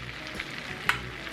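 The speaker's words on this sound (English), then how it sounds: "Basting them with butter and garlic like that." Ribeye steak basting in hot brown butter and garlic, a close steady sizzle with a sharp spoon clink near the end.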